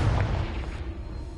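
A Confringo blasting spell explosion in Hogwarts Legacy, a single low heavy boom that hits at once and rumbles away over about a second.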